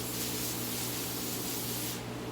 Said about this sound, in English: Okay, so I'm just going to spray it lightly.